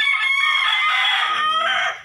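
A chicken crows loudly and close up in one sustained call that breaks into clucking toward the end, with no voices over it.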